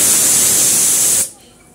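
A pressure cooker on the stove, cooking duck meat curry, lets off a loud, sustained jet of steam that hisses strongly, then cuts off abruptly and leaves near silence.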